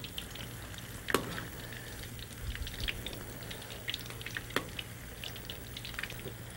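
Pakoras fry in hot oil with a steady soft crackle and sizzle, broken by a few brief sharper pops as they are turned.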